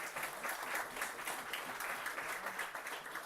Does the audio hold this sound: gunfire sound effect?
no